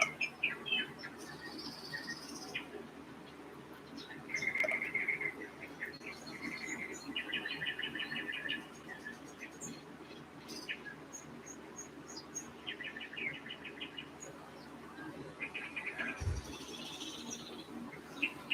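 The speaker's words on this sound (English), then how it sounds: "Let's listen to the birds." Quiet outdoor ambience with scattered bird chirps and short song phrases, alongside a thin insect trill, all fairly faint and distant.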